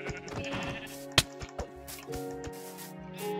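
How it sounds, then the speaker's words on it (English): Sheep bleat in Minecraft, a near, wavering game bleat layered over background music, with a few sharp hit and squish effects breaking in partway through. "I gotta kill the sheep"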